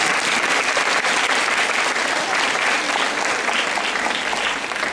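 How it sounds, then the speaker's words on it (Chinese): An audience in a school guidance session claps steadily, a full and continuous burst of applause close by with no break. "掌声，好吗？"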